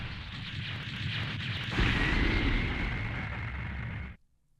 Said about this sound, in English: I love that sound at the very end of the explosion